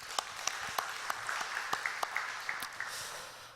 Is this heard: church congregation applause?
yes